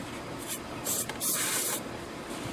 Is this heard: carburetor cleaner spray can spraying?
yes